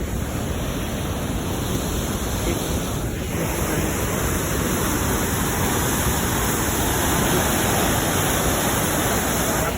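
A steady, loud rush of falling water roars continuously and close by, a dense broadband wash with no pauses.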